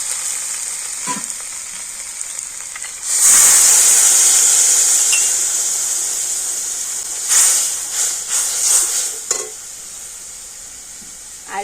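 Ground spice paste and a splash of water hit a hot pan with a sudden loud sizzle that hisses on and slowly fades, flaring up again briefly as the mixture is stirred.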